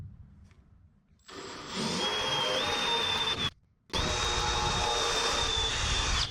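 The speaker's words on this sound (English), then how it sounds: "So first I have an 1/8 inch" An eighth-inch bit drills a pilot hole through the metal of a 1947–53 Chevy truck tailgate, two long close whining runs with a brief stop between them, the pitch wavering slightly as the bit cuts.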